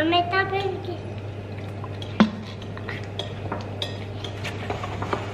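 A spoon scrapes and clinks against a bowl while a butter mixture is stirred, with small irregular taps and one sharper knock, under ongoing conversation.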